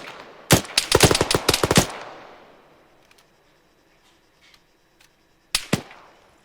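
Bursts of DShK heavy machine gun fire in Arma 3: a rapid close volley of about a dozen loud shots, distant faint pops during a lull, then another short burst.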